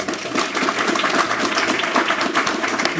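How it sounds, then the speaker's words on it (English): Audience applause at an art event, a continuous dense patter of clapping from a crowd, steady and moderately loud with no voices over it. "You also have me, another round of applause"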